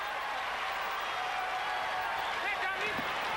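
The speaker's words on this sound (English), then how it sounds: "Crowd going wild, even though the Americans lead by 21 now." Basketball arena crowd at a 1994 World Cup preliminary game between USA and Spain, a dense, continuous roar of cheering and applause with a commentator talking over it throughout.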